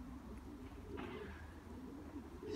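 Racing pigeons coo softly in a loft, low throaty calls repeating under a steady background murmur of the flock, fairly faint and without speech.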